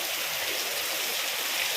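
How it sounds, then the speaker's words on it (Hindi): Steady rain falling outdoors, a dense, even hiss that holds at a constant level throughout, with no voices. "हाँ पानी गिर रहा है, दिखा रहा है, रेनिंग हो रही है ना"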